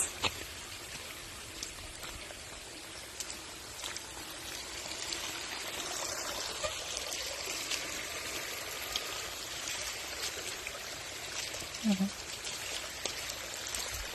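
Steady broadband rush of heavily flowing or pouring water, continuous and fairly loud throughout, with a brief faint low sound near the end.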